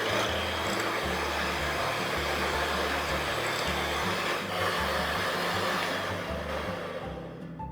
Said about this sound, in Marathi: आता याला बीटरच्या साहाय्याने आपल्याला व्हिप करून घ्यायचे।